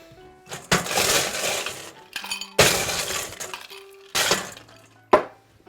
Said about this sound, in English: let's fill this with some fresh ice